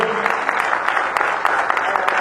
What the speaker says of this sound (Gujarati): બધાને તાળીઓથી આપણે